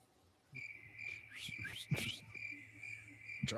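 Crickets chirp in a steady, high, continuous trill, fairly faint and alone, with a few brief clicks and knocks scattered through it.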